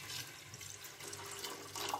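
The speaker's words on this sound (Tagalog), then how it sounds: "Ayan, lagyan ng tubig." Tap water runs steadily into a cooking pot holding soaked mung beans, a close, soft splashing gush that swells slightly near the end. No voices.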